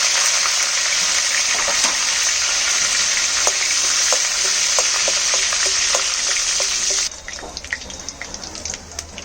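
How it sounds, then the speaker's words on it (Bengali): Dry red chillies, nigella seeds and garlic tempering in hot oil, a loud close hiss of sizzling with scattered crackles that drops abruptly to a quieter spitting near the end. "তেল গরম হয়ে গেছে এবার আমি শাকে ফোড়ন দেব শুকনো লঙ্কা অল্প কালো জিরে আর রসুন"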